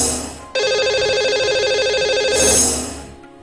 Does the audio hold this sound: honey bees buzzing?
no